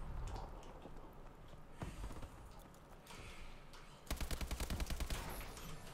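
Rapid bursts of automatic gunfire from a Call of Duty: Advanced Warfare match on PC, a dense volley crackling loudly through the final two seconds after scattered shots and battlefield noise.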